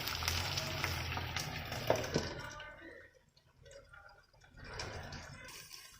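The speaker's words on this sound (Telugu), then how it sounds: "అప్పుడు ఈవెన్గా ఫ్రై అవుతాయి మొత్తం ఫిష్ అంతా" Whole fish, Hyderabad-style, pan fries on a low flame with a steady soft sizzle that dips quieter for a moment before picking up again, close and fairly faint.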